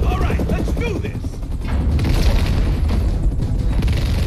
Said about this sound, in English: Oh, explosions are ready.